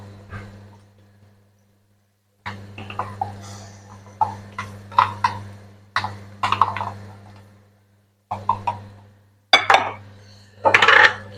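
Ginger garlic paste is stirred into fried onions in a pan for prawn biryani, giving bursts of scraping and clinking of utensil against the pan, separated by pauses, over a steady low hum.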